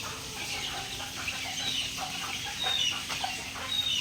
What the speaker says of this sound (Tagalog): Yan ang ating mga sisiw mga kabakerd.